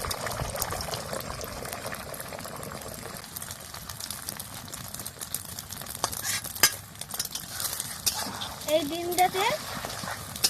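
Egg being beaten with salt and turmeric in a bowl for egg chowmein, a steady run of stirring and clinking under background kitchen noise, with brief talk near the end.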